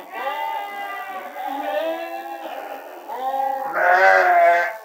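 Sheep bleating in a pen where the animals are finished on a feed of soybean meal, corn and soy hulls; several loud, wavering bleats follow one another, overlapping, with a louder, harsher call near the end.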